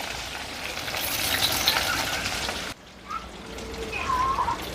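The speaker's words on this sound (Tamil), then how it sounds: "எண்ணெய் சூடாயிட்டு கடுகு, கருவேப்பிலை, பச்சை மிளகாய், சின்ன வெங்காயம்" Mustard seeds, curry leaves, green chilli and shallots fry in hot oil in a home kitchen. A soft, steady sizzle carries a faint crackle and rises again after a brief dip partway through.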